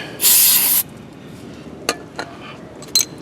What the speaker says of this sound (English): Take this spray, kind of go over the rotor.